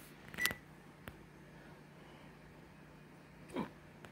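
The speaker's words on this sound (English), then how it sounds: "Okay, let's do the timer." An oven timer being set while baking crack chicken gives two faint, short electronic beeps several seconds apart against a quiet room hiss.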